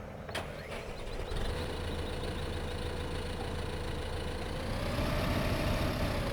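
Farming Simulator 2015 tractor engine starting with a brief crank, then settling into a steady low diesel idle that runs on evenly, close and fairly loud, with no talking.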